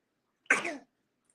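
A single short sneeze bursts out sharply and fades within a split second, fairly close, with silence before and after. It comes during a spoken sermon-style address.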